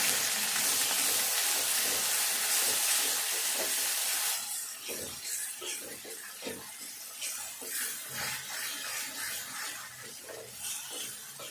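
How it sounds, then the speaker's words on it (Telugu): Masala being stirred in a frying pan for egg gravy: a loud steady sizzle at first, then softer frying with close, scraping stirs in an uneven rhythm. "మసాలా అంతా ఇందులో వేసుకొని ఇది కొద్దిసేపు కలుపుకోవాలి"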